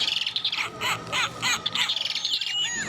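High, bright chirps from toy birds on nests repeat quickly in short bursts, like small electronic bird calls, fairly close with a faint background hum, in a toy store.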